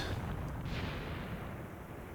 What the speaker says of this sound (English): The machine guns have opened up.